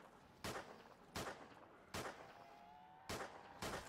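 Five loud, sharp gunshots spaced irregularly at zombies in Call of Duty Zombies on the Rust Outpost map, each a punchy close blast over a quiet game background, with no talk.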